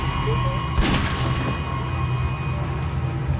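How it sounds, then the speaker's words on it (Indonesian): A single sharp gunshot from a sheriff's pistol in a film scene, one brief crack over a steady humming background, then the room tone continues unchanged. "Dan suara tembakan itu terdengar oleh John yang saat itu lagi di sungai"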